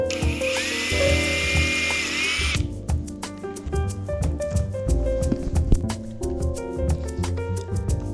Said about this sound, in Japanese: ということで穴開けます。